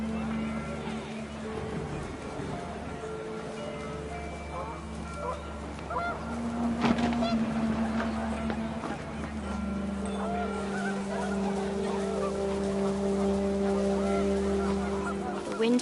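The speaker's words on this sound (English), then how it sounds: "The wind picked up and panicked geese appeared and quickly went." Panicked geese honk in the video game What Remains of Edith Finch as wind picks up, a continuous clamor of calls layered over ambient game sound.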